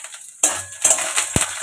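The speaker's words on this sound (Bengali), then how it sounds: "ঢাকাটা খুলে একটু নাড়াচাড়া করে নেবো" A utensil clinks and scrapes against a pan while pumpkin greens curry is stirred after the lid comes off, with a few short metallic knocks and scrapes close by.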